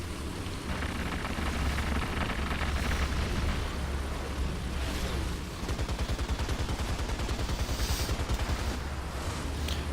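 The machine gun of an M3 Stuart tank in a video game fires a rapid, evenly spaced rattle for several seconds over steady engine rumble and battlefield noise, moderately loud.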